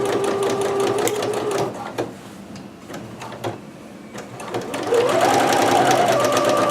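Close and loud, a sewing machine runs along a kimono seam in a steady whirring stitch, slowing briefly in the middle before picking up speed again.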